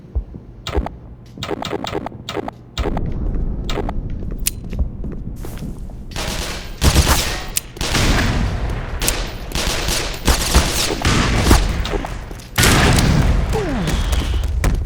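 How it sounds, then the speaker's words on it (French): A grenade blast and heavy gunfire from the shooter game Black Mesa, a Half-Life remake. Sharp repeated shots come in bursts, then loud booming explosions and sustained rumbling combat noise, close and dense throughout. "Oh, le coup direct de la grenade. Voilà, ça a sauté aussi."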